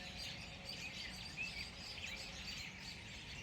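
A flock of robins singing up in the trees, a quiet continuous wash of distant chirps and trills with a few brighter notes standing out.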